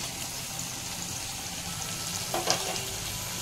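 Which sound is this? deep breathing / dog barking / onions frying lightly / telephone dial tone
onions frying lightly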